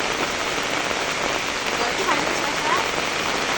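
Heavy rain pours steadily, a dense, loud, unbroken hiss of drops striking nearby surfaces from start to end.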